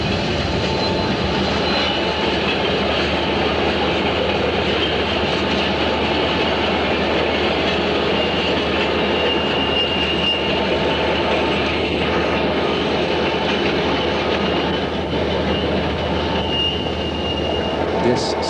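Southern Pacific GS-4 steam locomotive 4449, the Daylight, hauls a southbound train around the Horseshoe Curve, a loud continuous rumble of wheels and cars with steady high wheel squeal along the bend.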